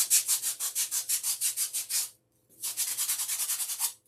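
Sandpaper rubs a faux gumdrop smooth in quick, even back-and-forth strokes, about a dozen raspy passes, then a short pause and another steady run of strokes, close and alone.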